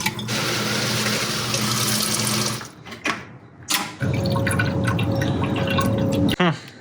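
Water pours into a car radiator in a loud steady gush, then stops and resumes with gurgling, drips and clunks, while someone talks.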